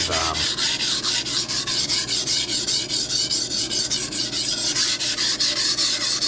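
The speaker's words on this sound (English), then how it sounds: "it doesn't take a whole lot to sharpen a thinner knife" Steady, rhythmic rasping of a thin Rada knife scraped back and forth across a coarse 220 grit King waterstone, close and continuous with evenly spaced strokes.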